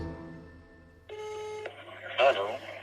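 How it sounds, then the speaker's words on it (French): A phone dials out to a mobile number, giving a quick run of DTMF keypad tones followed by a ringing tone, clear and close in a quiet room with low background hum. "Nous tentons de le joindre sur son portable."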